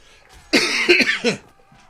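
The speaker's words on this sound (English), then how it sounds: "As I cough, I do apologise, everybody." A close, loud cough made of a few rough bursts in quick succession, with quiet before and after.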